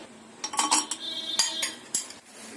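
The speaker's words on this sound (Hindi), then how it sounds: "आइस क्यूब डाल देंगे।" Ice cubes dropped into a glass of mango panna, giving a handful of sharp clinks and clatters in quick bursts, close and fairly quiet.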